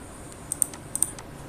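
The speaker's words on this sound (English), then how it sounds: "So I'm just going to press the F7 button from keyboard" A few quiet, close clicks and taps as keys are pressed on a computer keyboard, including the F7 key, in two small pairs over a faint background hiss.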